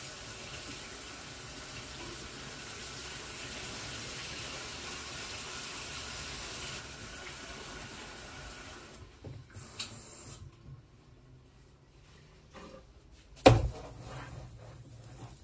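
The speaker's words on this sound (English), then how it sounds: "this is warm water out of the tap, so I put it to hot" Hot water running from a kitchen tap, a steady hissing stream for several seconds that stops, followed by quiet handling and a sharp knock.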